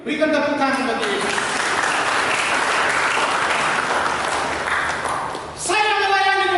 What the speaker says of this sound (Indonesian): Berikan tepuk tangan bagi Yesus.